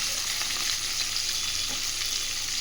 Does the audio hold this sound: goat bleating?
no